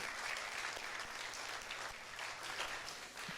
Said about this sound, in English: One big round of applause for Marko.